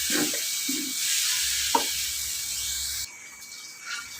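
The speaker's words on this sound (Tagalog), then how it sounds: "Lutuin ko lang yung kamatis para sa pakbet." Chopped tomatoes with shrimp paste sizzle softly in a frying pan while being cooked for pakbet, with a few scraping stir sounds and a sharp clink, steady hiss throughout, no talking.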